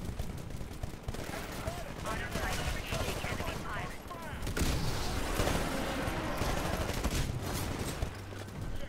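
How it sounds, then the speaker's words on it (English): Shotgun fire and other gunfire in the Titanfall beta rattle through dense, noisy battle ambience, with repeated blasts and a voice speaking among the shots. "Shotgun."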